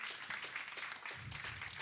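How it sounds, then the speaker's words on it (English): Audience applause for the founders who spoke at a fellowship demo day, a steady wash of many hands clapping at moderate distance, fairly faint and continuous. "Can we get one final round of applause for all of the founders who have spoken this afternoon?"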